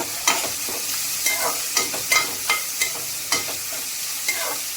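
Two large onions, with curry leaves and ginger, frying in a pan for veg biryani: steady close sizzle broken by regular stirring scrapes about every half second, no voices.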